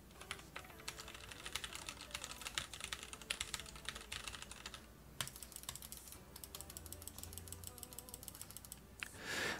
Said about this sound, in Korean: 키보드와 마우스 버튼을 누르면 소리가 이 정도로 섞여 들어갑니다